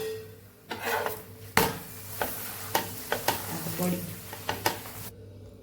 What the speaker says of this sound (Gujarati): બે સાઈડથી તેલ લગાવીને સરસ આપણે પરાઠાને પકાવી લેવાનું છે